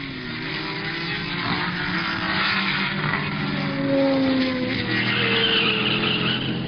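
Race cars at the 1970 12 Hours of Sebring, including a car that spins briefly when the driver puts his foot down too hard, giving a steady, loud engine roar with a rising tonal whine across the passage.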